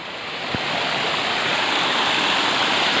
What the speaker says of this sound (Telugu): చూడండి, ఇది జలపాతం బాగా ఉన్నప్పుడు హైట్ కనిపిస్తుంది చూసారా.